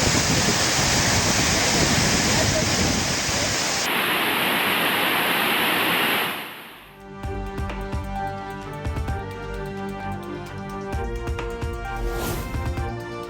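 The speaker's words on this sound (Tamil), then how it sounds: "தொடர் மழையால் குற்றால அருவிகளில் நீர்வரத்து அதிகரிப்பு" The Courtallam main waterfall, swollen after heavy rain, gives off a loud, dense, steady roar of rushing water for several seconds before it cuts away to other sound.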